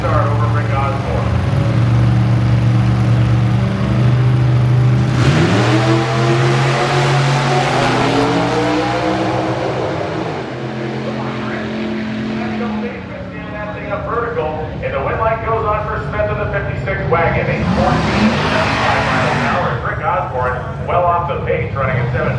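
A 1956 Chevy station wagon drag car with barn-find patina and ladder bar rear suspension launches at an NHRA nostalgia drag race, its loud engine roar surging under continuous announcer commentary.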